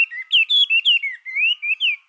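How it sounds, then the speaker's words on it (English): A small blue bird sings in a magical forest setting, giving a lively run of bright chirps and whistled notes in quick bursts, close and clear with no talking. "a tiny blue bird sang with joy"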